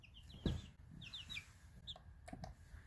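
Young backyard chickens cluck and chirp softly in a quiet indoor space, with several short high calls in small clusters and a few faint knocks.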